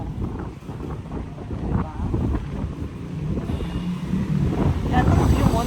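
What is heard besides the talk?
wind on a high floor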